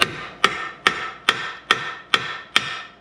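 A hammer strikes the bottom of a 2013 Mazda CX-5's metal lower control arm seven times in an even rhythm, each blow a sharp, ringing clank up close, with no voices.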